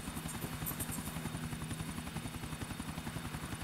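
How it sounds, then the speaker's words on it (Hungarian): Helicopter in the video game GTA IV, a steady rapid rotor chop with a constant engine whine, loud and close, running alone for the whole stretch. "Milyen szar hangja van a helikopternek?"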